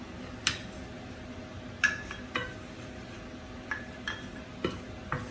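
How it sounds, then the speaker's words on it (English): Sesame seeds roasting in a pan on a stove, heard as a faint background hiss broken by several sharp, well-spaced clinks and taps of a utensil against the pan, close and quiet, with no speech. "Now I can roast the sesame seed on the stove."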